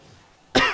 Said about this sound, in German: entschuldige den Huster